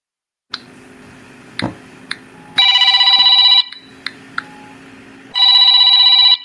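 Two bursts of a telephone ringing on a call-in line during a live stream, each a loud electronic trill lasting a few seconds, separated by quieter background noise and a few clicks.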